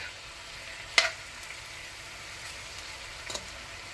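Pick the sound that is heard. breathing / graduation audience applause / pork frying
pork frying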